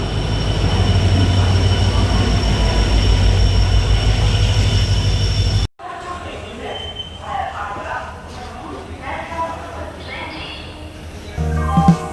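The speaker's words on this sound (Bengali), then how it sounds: "18011 আপ হাওড়া চক্রধরপুর এক্সপ্রেস।" The 18011 Up Howrah Chakradharpur Express rushes past close by with a loud continuous roar and clatter, then cuts to a quieter stretch of background noise that swells again near the end.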